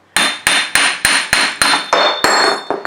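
A Nissan axle hub with its bearings already cut is struck by a hammer about nine times, sharp metallic blows at a steady rhythm that ring briefly between hits, close and loud.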